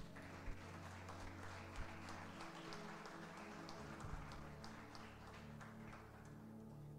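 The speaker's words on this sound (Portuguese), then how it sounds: "Você pode aplaudir Jesus?" An audience claps at a church faith lesson, a steady spattering of applause with a few louder bursts, sustained across the whole stretch without speech.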